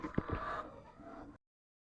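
Golden Misri hens cluck in a short burst of close, busy calls, a couple of sharper notes near the start, then softer continuous clucking that cuts off abruptly.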